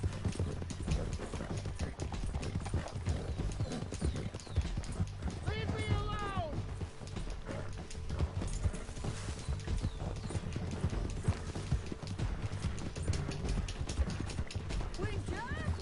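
A horse trots in the Red Dead Redemption 2 video game, its steady clip-clop hoofbeats running throughout under game music and effects, with a brief whinny partway through while someone speaks Spanish over it.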